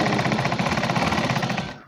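Sewing machine stitching all the way around a four-panel petticoat, giving a loud, close, fast and steady mechanical rattle with no talking.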